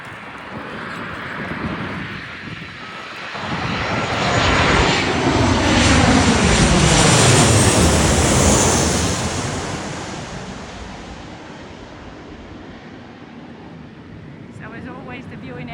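A Ryanair airliner arriving from Stansted roars past at an airport viewing area. The broad engine rush swells to a loud peak midway and then fades, with a whining tone sliding across it.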